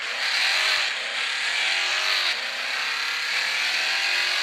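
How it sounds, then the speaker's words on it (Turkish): Sports-car exhaust in a driving school simulator game, a sustained high engine drone holding steady revs with slight pitch shifts, loud and continuous with no talk. "İşte ben bu egzozdan nefret ediyorum."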